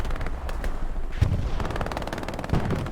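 Gunfire in a competitive multiplayer shooter match: rapid bursts of close automatic shots crackling in quick succession, with a couple of heavier individual bangs standing out over a continuous background din.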